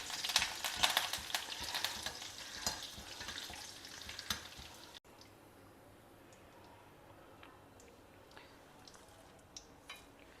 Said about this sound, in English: I have switched off the oil and just fry these curry leaves